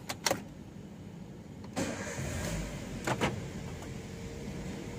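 A car engine is cranked and fires up, with a few sharp clicks followed by a short burst of starter and engine noise nearby; the car has its oil warning light coming on.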